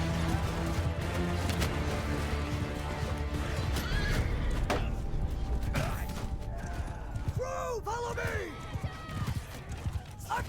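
Horses neigh and gallop in a battle in the video game Mount & Blade II: Bannerlord, with hoofbeats and clatter running continuously under a dense mix of combat noise, a few clear whinnies rising near the end.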